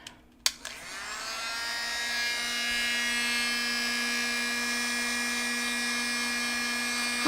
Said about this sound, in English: blow drying.